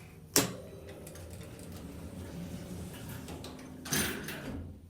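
Vintage Otis UCL elevator door operator in a hospital service building, with a sharp clunk as the doors start moving, a sustained mechanical rumble of sliding doors, then a second louder clatter near the end of travel.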